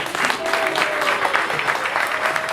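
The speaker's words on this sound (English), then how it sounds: "Let's get a big round of applause for that." Dense crowd applause fills the space at a Rath Yatra anniversary celebration in Kisumu, steady and fairly loud for the whole stretch, with a faint sustained tone running beneath the clapping.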